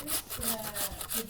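Three potatoes rubbed back and forth on a hand grater, giving a run of rhythmic rasping strokes, about five in quick succession, close and fairly steady with no talk over them.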